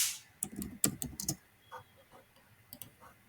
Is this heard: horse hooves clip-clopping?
no